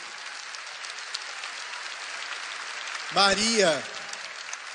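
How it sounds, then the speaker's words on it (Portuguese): Applause from a church congregation at a Catholic healing event, a steady broad clatter of clapping that continues throughout, with a brief spoken word rising over it partway through. "Uma salva de palmas para a mulher do sentido."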